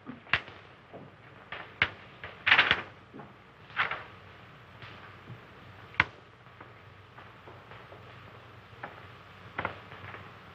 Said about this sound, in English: the music fades out and you hear footsteps and a knock